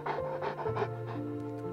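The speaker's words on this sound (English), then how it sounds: "Oh no, it's a dog!" A dog pants in an animated Five Nights at Freddy's story, with quick breathy rhythmic puffs over sustained musical tones.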